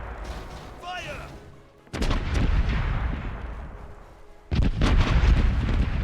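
Heavy cannon blasts from a pirate ship in a video game, two loud booming volleys with rumbling decay, the second after a short lull, over a steady background of ocean and game ambience.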